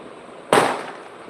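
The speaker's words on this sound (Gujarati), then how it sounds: "જો આ ફટાકડાનો અવાજ પણ આવી રહ્યો છે" Firecrackers burst during Diwali celebrations: one sharp, loud bang whose crackling tail fades over about a second, heard alone against faint background hiss.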